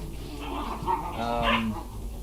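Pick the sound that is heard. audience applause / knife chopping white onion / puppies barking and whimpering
puppies barking and whimpering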